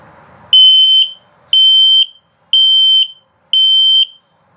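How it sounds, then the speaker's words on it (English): A loud electronic carbon monoxide and LP gas alarm in a 2022 Palomino Puma 26FKDS camper sounds four sustained high-pitched beeps, each about half a second long, evenly spaced with short silences between. "regular carbon monoxide LP gas alarm, if it beeps that very slowly, it's telling you your battery's low"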